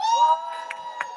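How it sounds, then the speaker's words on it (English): Rally crowd of FBU supporters at an anti-racism march in London cheering and applauding, a steady wash of whoops and shouts with a few sharp bursts, fairly distant and continuous. "a massive round of applause for the FBU as well"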